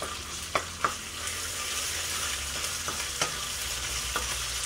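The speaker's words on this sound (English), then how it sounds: "Black bean paste. Give them a quick stir." Black bean paste and razor clams stir-fried in a hot pan send up a steady sizzle, with a few sharp utensil knocks and scrapes at uneven intervals, close up and with no talk.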